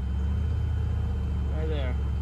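A 1996 GMC K3500 with a 6.5L diesel engine idles with a deep, uneven rumbling pulse, close up, and its rhythm briefly stumbles while someone talks over it.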